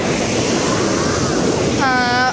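Loud, constant rush of river water flowing at Thirumoorthy Dam waterfall fills the scene up close, with a voice briefly audible near the end.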